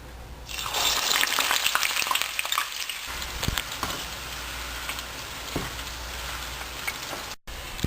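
Sliced onions frying in hot oil for biryani, a loud continuous crackling sizzle with scattered pops and occasional stirring scrapes, steady throughout and heard up close.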